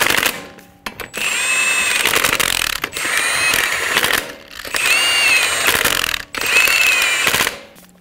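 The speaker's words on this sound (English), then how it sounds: "Snug down the lug nuts." Lug nuts on a 2007-2011 Toyota Camry wheel being run down with a power impact tool, loud and close, in several whirring, rattling bursts separated by short pauses.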